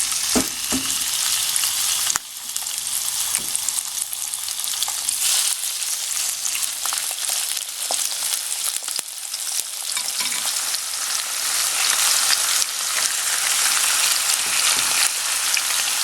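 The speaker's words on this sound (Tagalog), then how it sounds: "frying pan. Then ngayon dito po ilalagay natin yung ating sliced pork" Sliced pork for ginger pork shogayaki sizzles steadily and loudly in an oiled frying pan, a dense continuous crackle with a sharp burst when the meat goes in and a few spatula knocks.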